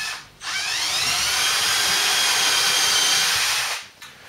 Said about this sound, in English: very carefully, you drill a hole in the top